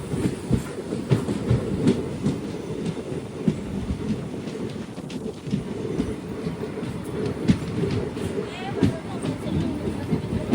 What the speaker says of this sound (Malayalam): ട്രെയിൻ ഇപ്പോൾ പരമക്കുടി സ്റ്റേഷനിലേക്ക് ഇതാ എത്തുകയാണ്